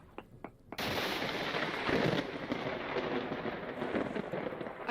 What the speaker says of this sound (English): I think that was a lightning strike.